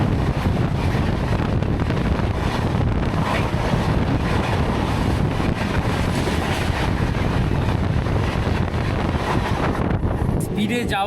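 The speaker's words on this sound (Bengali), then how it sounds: "হাওয়াগুলো আমার এত ভালো লাগে এই আওয়াজটা যে সু করে যায়" Steady, loud rushing roar of wind and rumble, like air streaming past an open window on a fast-moving passenger train, continuous throughout.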